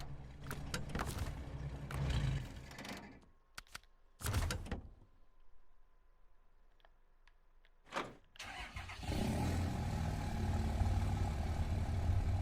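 A run-down diesel truck engine cranks and starts, cuts out for a quiet stretch with a door sound, then turns over again and settles into a loud, steady running rumble.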